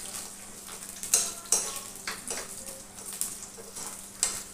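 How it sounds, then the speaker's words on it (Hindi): Onion cubes frying lightly in oil in a pan, a soft continuous sizzle broken by occasional stirring scrapes and light clinks, close by and fairly quiet. "ये जो क्यूब्स में ये ऑनियन काटे थे इसे भी हल्का फ्राई कर लेंगे"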